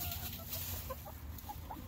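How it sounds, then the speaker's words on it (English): A chicken taking a dust bath clucks softly in a few short, scattered notes over a constant background hiss and rustle, fairly faint and close. "A chicken taking a dust bath is a very entertaining thing"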